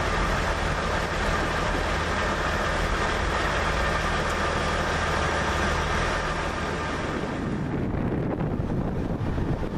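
A TransPennine Express passenger train rumbles steadily past at close range with strong wind buffeting the microphone, the roar dropping away near the end.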